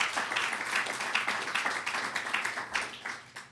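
Audience applause at an NAACP community conversation event, a steady wash of many hands clapping for volunteers, fairly even and moderately loud, thinning out near the end.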